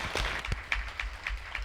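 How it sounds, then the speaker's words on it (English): Brief burst of hand clapping from a small group at a community meeting, a few claps heard close by with no one speaking over them. "let's give her a round of applause"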